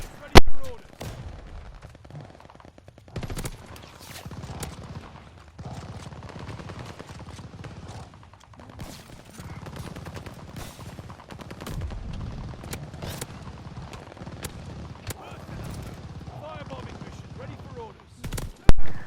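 A Thompson submachine gun fires in Call of Duty: Vanguard in rapid, sustained bursts with sharp loud shots at the start and end, while a voice talks over the gunfire.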